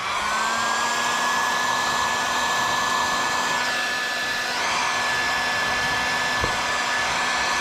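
A heat gun warming vinyl graphics film blows a steady, close airy rush with a high whine that holds throughout, alone with no talk.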